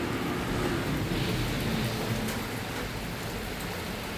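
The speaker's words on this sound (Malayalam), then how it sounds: "ഇപ്പം നല്ല മഴ പെയ്തു ആ സൗണ്ട് കേൾക്കുമ്പോൾ തിരിയുന്നുണ്ടാവും" Heavy rain in Kannur pours steadily in a dense, continuous hiss, loud and close, with no voices over it.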